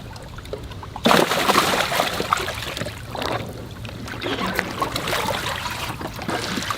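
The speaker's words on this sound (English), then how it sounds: "I'm gonna just throw them into the deep water and they'll be good." Pet pacu fish thrown into deep water, a sudden loud splash followed by churning, trickling water and lighter splashes, close and outdoors with wind.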